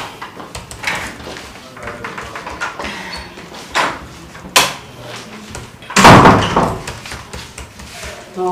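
A door is handled indoors amid a busy scene, with several knocks and thumps scattered through and a loud bang near the end, mixed with people talking over it.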